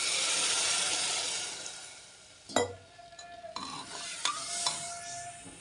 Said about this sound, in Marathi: फायनली आता पाणी टाकते